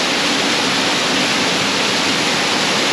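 Hazel Falls in Shenandoah National Park runs swollen after five inches of rain, a steady, loud broadband roar of falling water pouring into a pool, continuous and close with no voices.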